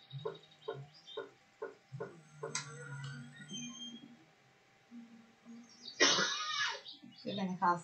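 A game character in My Summer Car coughs in a harsh burst of noise after a run of rhythmic ticking, with voiced game sounds in between.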